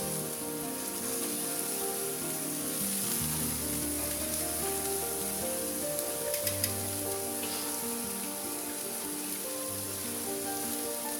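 Shrimp sizzle steadily on a hot grill, a dense continuous crackle and hiss like light rain that holds at a constant level throughout, with a few low hums underneath and no talk.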